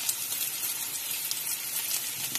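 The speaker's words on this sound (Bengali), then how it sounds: "দেখতেই পাচ্ছেন পেঁয়াজটা অলরেডি কালার চেঞ্জ করতে শুরু করে দিয়েছে। এবারে আমি কুচি করে 2টো রসুন দিয়ে দিলাম।" Onion and two chopped garlic cloves fry in a pan, giving a steady, close hissing sizzle with light crackles and no voices.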